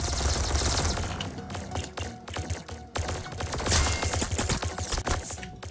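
Laser rifle fire in a video game, a dense, rapid string of sharp shots with punchy impacts, loud and close in quick bursts.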